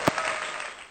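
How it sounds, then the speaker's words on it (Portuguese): Brief burst of applause welcoming a data specialist to a psychology group presentation, a sharp opening clap followed by a short, dense wash of clapping hands. "Uma salva de palmas para ela"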